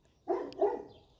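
Two quick dog barks close by, one right after the other, with a faint yelp between them and nothing else.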